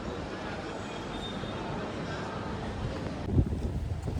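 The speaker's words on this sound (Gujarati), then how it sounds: "ચલો, હવે મેટ્રો આવી ગયું છે." A metro train pulls in at an elevated open-air station, a faint steady rumble of wheels on rails with a brief thump near the end and a voice speaking softly over it.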